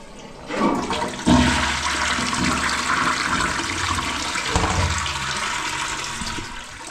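A clean toilet in Nairobi flushes in one loud, rushing surge of water that carries on steadily across the whole stretch, with a gurgling refill below and no talking.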